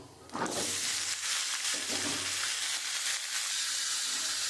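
Chopped mixed vegetables with ginger sizzle steadily in hot oil in a pan, a continuous close hiss that flares as they hit the oil and then settles into an even crackle.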